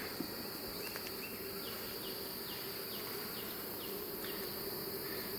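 Honey bees buzzing over a heavy brood frame from a swarming hive, a steady, faint, close hum with occasional individual bees droning past.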